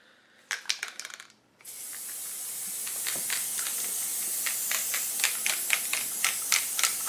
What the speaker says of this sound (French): Vous prenez votre truc, vous mettez à peu près 20 cm de distance et vous aspergez.